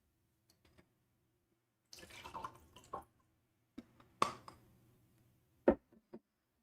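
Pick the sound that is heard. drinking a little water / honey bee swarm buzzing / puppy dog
drinking a little water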